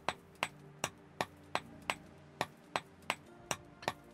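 In Vintage Story, a chisel is struck by a hammer about a dozen times in a steady, even rhythm. Each blow is a crisp metallic clink with a brief ring, heard alone and fairly quiet.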